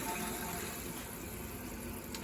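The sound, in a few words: toilet tank refilling with water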